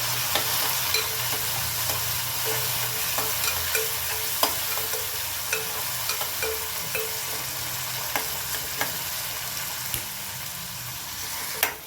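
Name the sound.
frying chopped tomatoes, chillies and onion for upma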